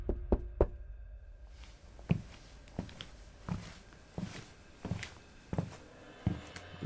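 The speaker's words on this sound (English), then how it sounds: "someone knocked on the motel room door." Repeated knocking on a door, a few quick raps then slower single knocks spaced about a second apart, close and fairly loud.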